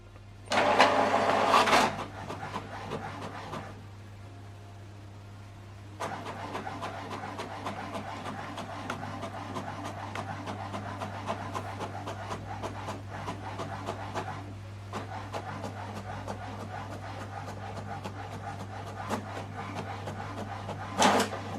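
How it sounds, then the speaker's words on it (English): A printer runs a double-sided document job at 600 dpi, giving a steady mechanical hum and whir with a louder burst at the start and brief pauses between page passes. "Now this document is printing."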